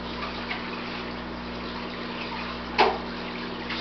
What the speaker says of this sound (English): So we take our breeder box, fill it up with water.